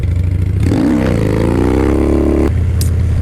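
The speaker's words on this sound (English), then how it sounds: "let's put these gloves to the test. I thought, for starters, we'll try some wheelies on the Harley" A Harley-Davidson Dyna Low Rider S engine idles with a low, steady rumble, then revs hard and holds a rising, strained roar for about two seconds before dropping back to a throaty idle, loud and close with no talking.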